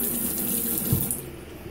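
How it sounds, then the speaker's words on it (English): Water runs steadily from the tap into a bathroom sink at a Holiday Inn Express hotel in Stafford, Virginia, a loud, close, continuous hiss with no talk. "Then we have a sink."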